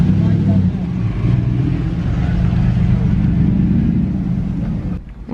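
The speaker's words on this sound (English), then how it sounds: "Another V8, a Triumph Stag." A classic Triumph Stag's V8 engine rumbles steadily at close range with a deep, throaty tone, fading briefly at the end as it moves off.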